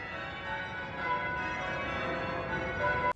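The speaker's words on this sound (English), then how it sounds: "the permutations section led me to get a bit obsessed with tower bell change ringing for a bit" Tower bells rung in changes, practice ringing at a university campus bell tower, with steady overlapping bell tones sustaining throughout before cutting off abruptly at the end.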